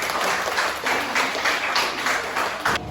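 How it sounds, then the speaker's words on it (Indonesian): Classroom applause, a short burst of many hands clapping in rapid uneven rhythm, close and fairly loud, ending abruptly. "Tepuk tangan yang meriah."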